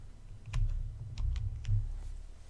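A computer keyboard shortcut, Control J, is pressed: a handful of quick, light key clicks, close but soft, over a low steady background hum with no talking.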